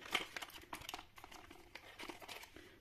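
Toy blind-box packaging is torn and crinkled open by hand, with a few seconds of close, busy rustling and tearing of plastic and paper wrap.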